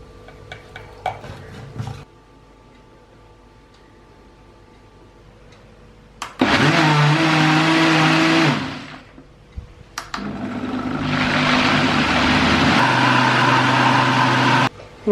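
Mixer grinder whirring through dosa-style batter in a kitchen, two loud bursts of steady motor whine with a short pause between, after some quiet clicks.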